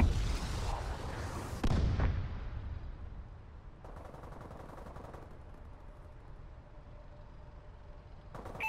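Explosive missile-strike blasts from the Call of Duty: Advanced Warfare video game, a loud booming burst up front followed by a second hit, then rumbling, crackling gunfire-like bursts fading into a lower sustained battlefield din.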